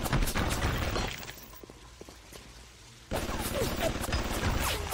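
Rapid turret gunfire in BioShock, dense bursts of shots that are loud at the start, ease into a quieter stretch, then return strongly for the final two seconds.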